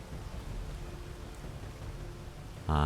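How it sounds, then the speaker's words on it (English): Steady rain falls in the Space Engineers video game as a dense, even hiss with low rumble underneath, faint and continuous, then a louder low tone cuts in at the very end. "Yeah, it's just rain. It's not a storm."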